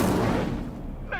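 An Incendio fire spell in Hogwarts Legacy bursts out at once as a loud, short whoosh of flame that dies away within about a second.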